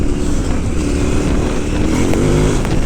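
KTM 990 Adventure S motorcycle engine droning loudly and steadily while riding on a country road, close and continuous with wind rush, no talk.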